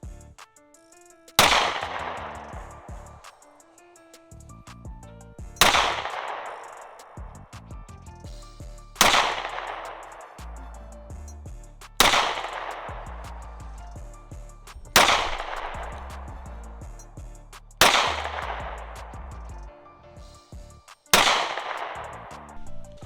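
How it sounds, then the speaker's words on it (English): A 9mm pistol and a .380 pistol being fired outdoors: seven sharp single shots spaced roughly three seconds apart, each with a ringing decay, no talk. "hopefully you guys enjoyed me firing the weapons a little bit."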